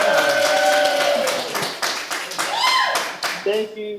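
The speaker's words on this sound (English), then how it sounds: "I will stand by while I hear your applause in the crowd before I continue further" A crowd clapping at a speech or rally, with scattered applause running under overlapping talk and voices throughout, fairly close and uneven.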